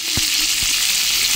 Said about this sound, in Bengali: এর মধ্যে আমি কাঁকড়াগুলোকে ভালো করে ভেজে নেব। কাঁকড়ার গাটা যতক্ষণ না লাল হচ্ছে ততক্ষণ আমি এটাকে ভালো করে ভাজতে থাকবো।